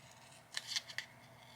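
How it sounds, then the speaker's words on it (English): Scissors make a few quick, quiet snips while cutting around a picture in a paper planner, three or four short crisp clips spaced apart over a faint background hush. "I'm going to try to cut around it."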